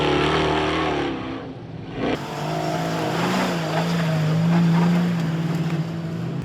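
A number 618 4x4 race truck in an EMC class race at the 2021 Battle in Bluegrass powers up a hill, its engine roaring loud and sustained, rising in pitch as it climbs.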